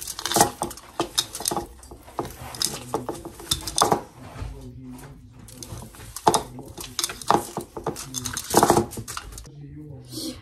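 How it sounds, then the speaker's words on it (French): Green almond paste mixed by hand in a bowl, with irregular clattering, scraping and knocking of utensils against dishes and a voice talking over it. "on mélange bien jusqu'à ce qu'elle devienne toute verte"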